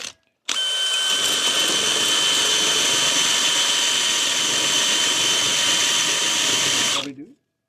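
A power drill kicks in abruptly and runs at a steady, loud high-pitched whine for about six and a half seconds, then winds down and stops.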